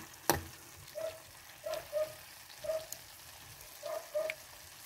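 Fish paksiw (tulingan) frying and being stirred in a pan, soft sizzling under a series of short clinks and scrapes from the utensil at irregular intervals, fairly quiet and close.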